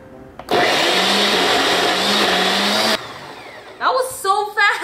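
A blender roars into a loud, steady whir for about two and a half seconds, making a smoothie, then cuts off into clattering handling noise and a voice talking.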